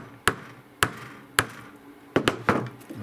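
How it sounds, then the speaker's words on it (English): A framing hammer taps wooden loom parts together during a small table loom build. Six sharp, close knocks sound at an uneven rhythm, the last few coming in a quicker cluster, with no speech. "Framing hammer, a little overkill"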